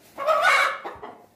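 A hen clucks up close, one drawn-out squawking call followed by a couple of shorter, softer clucks.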